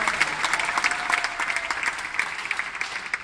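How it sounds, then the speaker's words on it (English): An audience at a presidential campaign launch in Kenya claps for a few seconds, individual hand claps audible within a moderate, fairly even round of applause. "Give her a round of applause."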